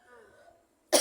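One short, sharp cough bursts out close and loud after a quiet stretch of fading, murmured vocal sound.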